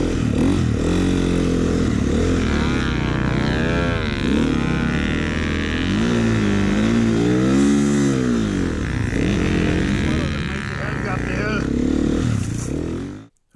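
Snowbikes ride through snow, their engines revving up and down in wavering surges with clattering and scraping, loud and close, under a rider's muffled voice.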